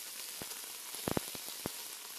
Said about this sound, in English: And we definitely want to sear on this meat.